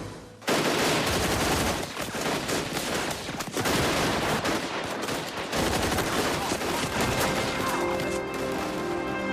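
Gunfire in a movie scene following a shouted order to fire: a loud, sustained fusillade of overlapping shots and bursts that runs almost continuously for several seconds, with brief dips between volleys.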